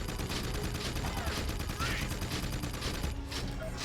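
Crimson Guard gunfire in the video game Jak II, a continuous loud barrage of rapid shots and crackling bursts that runs steadily through the moment, with a voice faintly mixed underneath.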